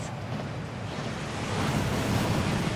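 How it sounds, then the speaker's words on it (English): The waterfall at Gringotts in the video game Hogwarts Legacy roars as a continuous broad rushing wash of falling water, steady and loud, swelling slightly toward the end. "That waterfall washes away all enchantments."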